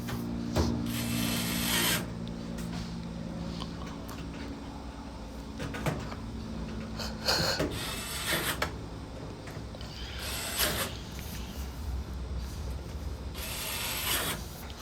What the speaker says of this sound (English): I'm finishing up on these Phillips head screws.